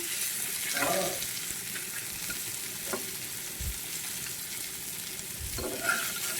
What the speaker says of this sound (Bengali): মাছটি কড়া করে ভাজুন লাগবো। তো মাছটি ফ্রাই হইতে থাক